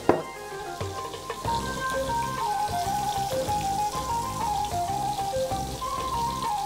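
Parsley sizzles and crackles in a little oil in a pan, a steady, fine frying patter. Background music plays over it at moderate volume.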